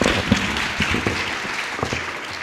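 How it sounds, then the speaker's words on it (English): Applause from a dinner audience for the caterers at an evening talk, a steady broadband patter of many hands filling the room for a couple of seconds with a few faint voices underneath. "How about a round of applause for the caterers tonight?"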